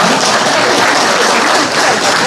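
Loud, steady applause from an audience after a song at a live Polish press conference, dense clapping that runs unbroken throughout.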